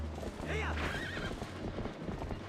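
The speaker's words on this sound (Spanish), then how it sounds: "Los caballos." Horses in a video game gallop with steady clip-clopping hooves, and a high wavering whinny rings out early on, all under continuous game audio with voices mixed in.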